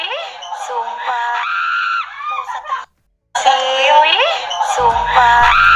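A person backstage lets out loud, piercing screams close by, with wavering pitch and one brief silent break before the screaming resumes.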